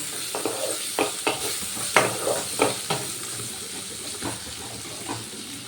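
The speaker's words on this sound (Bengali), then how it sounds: "এবার আমি পেঁয়াজটা ভালো করে ভেজে নেব" Chopped onion frying in a pan, a steady sizzle under repeated scraping stir strokes of a spatula, close and clear with an irregular rhythm.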